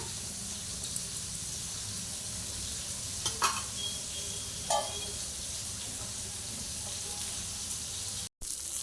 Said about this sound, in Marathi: आपली मच्छी छान अशी दोन्ही बाजूंनी फ्राय करून झालेली आहे